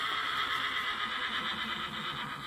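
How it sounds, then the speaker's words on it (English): A hungry white horse gives a sustained, fairly loud whinny at a stable, with no talk. "The white horse back there."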